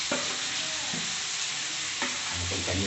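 Crab in masala is stirred in a frying pan, giving a steady sizzle with repeated scrapes and clacks of the spoon and no talking.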